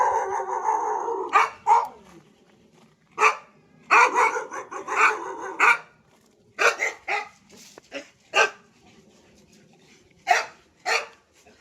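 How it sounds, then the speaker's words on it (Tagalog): Several dogs in a kennel on a farm lot bark and howl in irregular bursts, some calls close and loud, others shorter, with quiet gaps between. "meron din pong kulungan ng aso"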